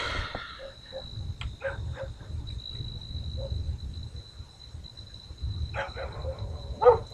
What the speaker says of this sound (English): Beyond the crickets, there's a softer chirping